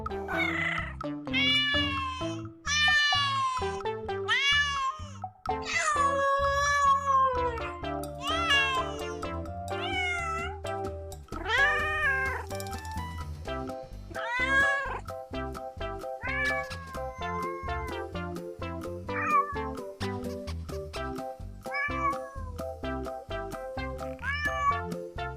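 Cats and kittens meow over and over, a steady run of close, loud, drawn-out cries with varied pitch, some high and wavering, continuing with hardly a pause.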